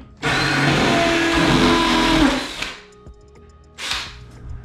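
A power drill widens a hole in the wall while installing tub sliding glass doors: a loud, close whir lasting over two seconds, dropping off, then a brief second burst.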